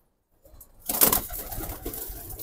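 Military pigeons coo close by after a brief silence, a soft low burble that swells and lingers, with a faint flutter near the start.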